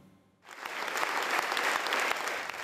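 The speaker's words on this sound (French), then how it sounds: "Environ 800 magistrats debout dans la salle solennelle de la Cour d'appel de Bruxelles, applaudissant durant de longues minutes" About 800 magistrates applaud in the solemn hall of the Brussels Court of Appeal, the clapping swelling suddenly from near silence into a dense, sustained ovation that fills the room.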